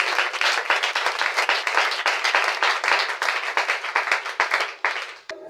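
A church congregation applauding in praise during a French-language sermon, with dense sustained clapping that stays loud and steady, then thins out near the end.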